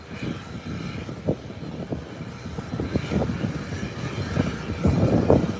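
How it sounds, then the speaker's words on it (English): A British Airways Boeing 777 arrives at an airstrip, a distant jet rumble slowly building in loudness, with irregular low thumps and rustling noise over it. "the arrival of the Boeing 777. That's British Airways, the largest aircraft that uses our airstrip"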